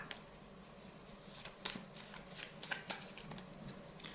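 Tarot cards are shuffled and drawn close by in a quiet room, a soft continuous riffling with a few crisp flicks and snaps, low in level and without talking.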